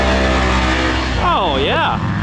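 An off-road UTV's engine drones steadily as it bashes through sloppy mud on a short course, heard under a nearby voice talking.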